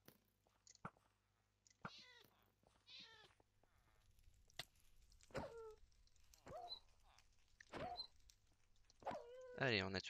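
Minecraft dog whimpering and yelping as it is killed, a few short high cries spaced through the clip amid game sounds and talk.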